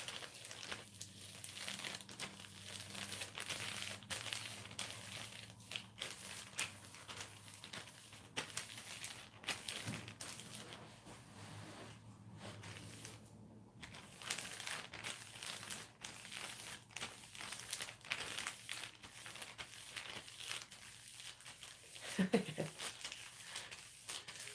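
A plastic bag, as used in a hair and durag method, crinkles in faint, irregular bursts of rustling over about twenty-five seconds. Quiet stretches fall between the crackles, with no clear talk.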